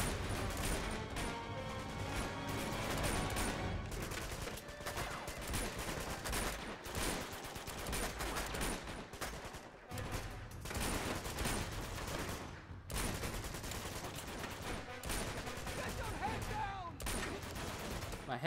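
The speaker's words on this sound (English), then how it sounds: "How dare you make me use automatic weaponry?" Automatic gunfire in the action game Uncharted 2 rattles in dense, rapid bursts with brief pauses, mixed with impacts and game sounds.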